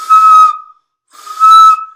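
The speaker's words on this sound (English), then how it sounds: "That low whistle is coming right over the top of my 2 fingers." Two sustained finger whistles made with two fingers in the mouth, each a loud, steady high tone about half a second long, separated by a short pause, with no other sound.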